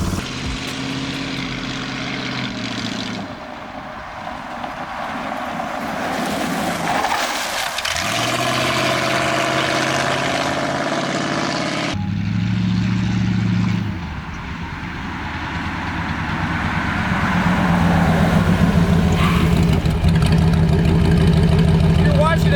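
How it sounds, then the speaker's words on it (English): A loud, rumbling engine with straight pipes on an old donk car idles and revs, its deep, raspy drone shifting in pitch, with a person talking over it at times. "some people hate straight pipes. I love straight pipes. They sound so good on this."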